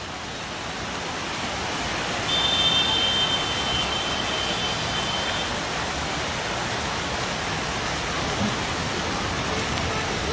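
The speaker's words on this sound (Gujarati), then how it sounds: "જે રીતના ધમાકેદાર વરસાદ વરસી રહ્યો છે" Heavy evening downpour floods low-lying city streets in Gujarat, producing a dense, steady roar of rain that stays loud and unbroken throughout, with no voices.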